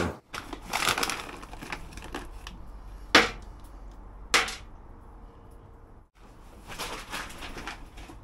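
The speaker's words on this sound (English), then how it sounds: "We're just going to even this charcoal out so we've got an even bed all the way along." Lumps of charcoal are raked and shifted across a grill bed, making a series of close scraping, crunching rattles with two sharp clatters midway and a short pause.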